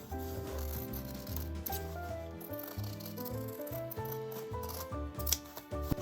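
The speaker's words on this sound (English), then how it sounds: "And now I'm going to cut them out." Scissors snipping through shiny fabric pieces for a handmade Christmas decoration, with steady cutting strokes and rustling that sit under a continuous bed of background music.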